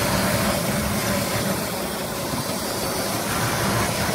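Steady idle of a 1966 Ford Mustang coupe's 200 six-cylinder engine, a continuous low rumble heard close with no talking over it.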